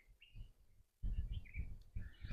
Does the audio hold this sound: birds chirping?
yes